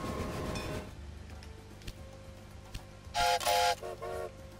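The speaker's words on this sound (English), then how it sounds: "There's the train." A train in the railroad video game Railway Empire rumbles steadily along the line, then sounds a few short, loud horn toots near the end, with no speech.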